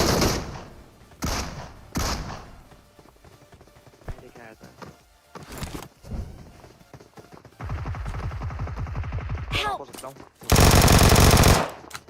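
Vector submachine gun fire in a squad battle video game comes in several short rapid bursts, ending with a loud sustained burst, with someone talking excitedly between the shots.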